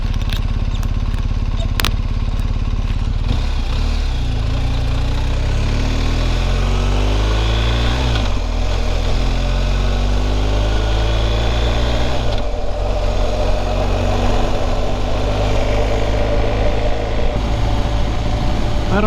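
A motorcycle on a Virginia and West Virginia road trip runs loud and close, its engine climbing through repeated gear changes over constant wind rush, with a voice occasionally under the drone.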